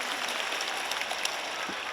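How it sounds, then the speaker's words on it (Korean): Applause from an audience at a film festival open talk, a soft, steady patter of many hands heard from a distance. "박수 부탁드립니다."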